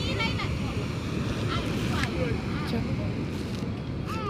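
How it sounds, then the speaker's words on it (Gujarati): Sea waves roll and wash onto Porbandar Chowpatty beach at night in a constant rushing roar, with wind buffeting the microphone and voices faintly audible nearby. "જો મોજાનો અવાજ આવે છે મસ્તનો."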